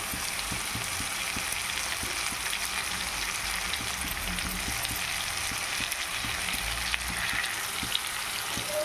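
Mutton keema fries in a pan with salt and curry leaves, giving a dense, even crackle and sizzle that runs unbroken throughout, close and moderately loud.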